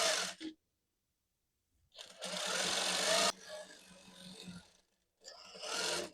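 A sewing machine stitches a kameez in short bursts, a fast whirring mechanical rattle that starts and stops with silent pauses between runs, heard up close.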